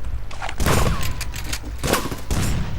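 Gunfire from the video game Rust bursts in loud, dense volleys, several rapid clusters of booming shots crowding the clip close up without pause.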